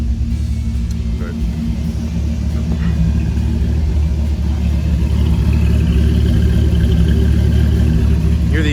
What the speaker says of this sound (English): Hear the exhaust there